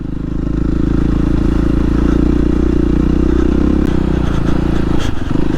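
Enduro motorcycle ridden on a trail near Gabrovo, a loud close engine droning steadily with revving, clattering and scraping throughout, no talk.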